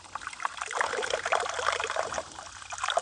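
Water trickling and splashing into a partly filled collapsible camping sink for washing dishes outdoors, a close, uneven pouring stream with small bright splashes, no talking.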